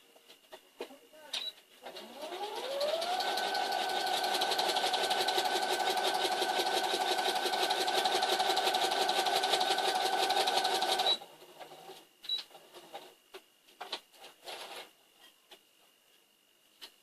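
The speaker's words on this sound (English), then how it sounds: "We are going to sew down that line" A sewing machine ramps up and stitches a seam on a newspaper quilt, a fast steady mechanical whir held for about eight seconds before stopping, close and fairly loud, with handling clicks before and after.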